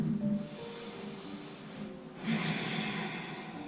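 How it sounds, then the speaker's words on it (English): Slow, deep breaths during a gentle yoga session, with a long airy exhale, a short pause, then a strong new breath drawn in, close to the microphone with no talk. "Deep breathing, it feels so good."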